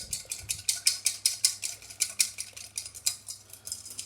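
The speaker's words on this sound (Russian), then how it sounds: "я беру венчик и взбиваю, для того, чтобы получить однородную консистенцию" A whisk beats a fruit sauce in a bowl with rapid, steady metallic strokes, a close and regular clicking rhythm that carries on without pause and without any voices.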